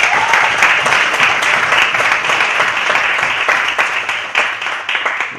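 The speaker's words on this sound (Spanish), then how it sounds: "Un aplauso." Loud audience applause at a university debate tournament, thick continuous clapping with a few sharp individual claps poking through and tapering slightly near the end.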